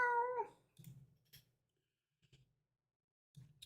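A house cat gives one clear, drawn-out meow at the start, followed by soft thumps and small movement sounds in an otherwise quiet room.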